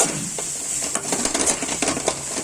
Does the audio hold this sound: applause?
no